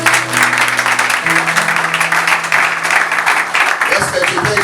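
A church congregation in Durban, South Africa, breaks into loud, sustained applause and cheering at a church anniversary service, a dense wash of clapping over a low musical tone.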